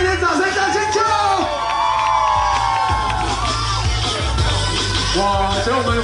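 A crowd at a temple electronic dance party cheers, whoops and yells loudly and continuously, with voices shouting over the din and some talk mixed in.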